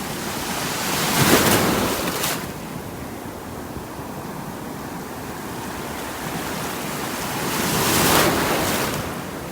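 Surf washes onto a beach at North Naples, Florida, a steady broadband rush with two swelling waves rolling in and out, mixed with light wind on the microphone.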